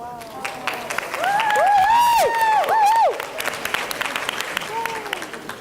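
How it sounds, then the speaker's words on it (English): A crowd applauds steadily, with loud whistles and cheers rising over the clapping before it tapers off. "Let's give her a round of applause."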